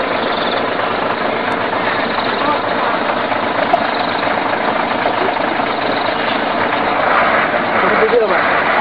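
A struggling motorbike engine that won't pull, a steady rough drone running throughout while people talk over it.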